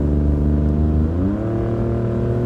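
A 2017 Ford Raptor fitted with a Flowmaster FlowFX exhaust revs up close, a deep, steady rumble whose pitch climbs smoothly partway through and holds loud throughout.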